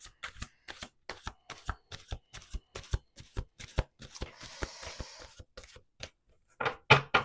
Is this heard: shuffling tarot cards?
yes